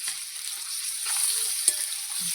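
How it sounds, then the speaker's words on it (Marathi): Garlic-ginger paste fries in hot oil with a steady bright hiss and one brief crack, close up and without voices over the short stretch. "त्याच्यानंतर लसूण अद्रकची पेस्ट टाकायची. ती पण मस्त अशी तेलामध्ये"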